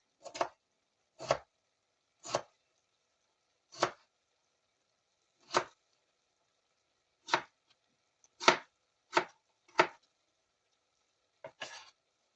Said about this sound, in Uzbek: Mana mayda kubikcha qilib kartoshkalarimizni to'g'rab olamiz.